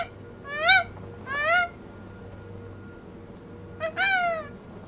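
A person imitates bird calls with their throat alone, giving three rising, warbling cries in quick succession, a pause, then a fourth; close and fairly loud against a quiet background hum.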